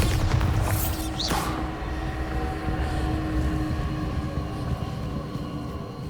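A Bombarda explosion spell in Hogwarts Legacy: a loud, whooshing burst that sweeps through quickly, then a sustained rumbling roar that slowly fades.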